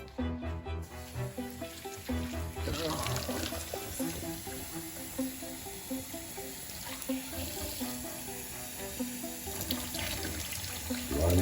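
Cold tap water runs steadily over blanched potatoes in a kitchen sink, a continuous splashing rush that carries through the whole stretch over background music.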